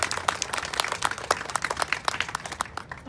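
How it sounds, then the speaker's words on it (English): A modest crowd gathered after a domestic violence awareness march claps outdoors. The applause is brisk and scattered, with distinct individual hand claps over about three seconds, fairly close and without talk. "I think you should give yourself a round of applause"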